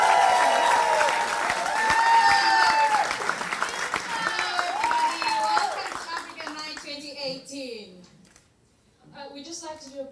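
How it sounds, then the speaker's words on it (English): Audience applause and cheering at a university African Night celebration as the hosts come on, a crowd clapping strongly for several seconds before thinning out, with an amplified voice and scattered chatter rising over the fading claps. "With a round of applause, please welcome your hosts"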